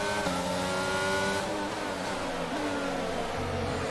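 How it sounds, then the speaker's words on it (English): An F1 22 racing car skids and spins its wheels, with a loud engine revving and whining through shifting pitch and tire noise under the engine, close and continuous. "A lot of skidding. Wheel spins."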